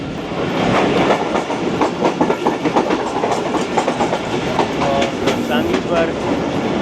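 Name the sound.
Sir Syed Express train running on rails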